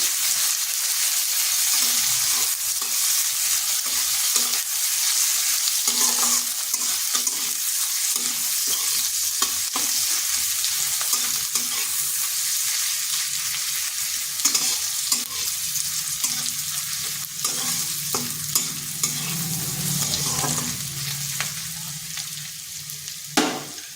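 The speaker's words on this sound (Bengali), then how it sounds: "পেঁয়াজটাকে একটু ভেজে নিচ্ছি" Thin, long-sliced onion fries in a pan and is stirred again and again. A loud, close sizzle continues throughout, broken by frequent scraping strokes of the spatula.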